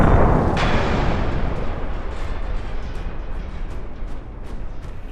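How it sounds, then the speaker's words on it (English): A single loud gunshot from a Block 2 M4 rifle firing a 55 grain round at a 6B47 army helmet, opening with a sharp blast that decays into a long rumbling roar and echo outdoors. "All right, we have a Block 2 M4. We're going to give it a shot."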